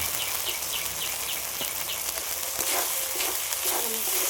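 Spice paste fries in oil with a dense, steady crackling sizzle and scattered small pops throughout, fairly close.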